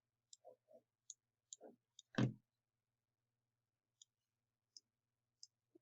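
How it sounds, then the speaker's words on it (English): Computer mouse clicks, a scattered series of sharp, close, crisp taps with irregular gaps and one louder knock, with no talking. "I'm going to click back on this mouse"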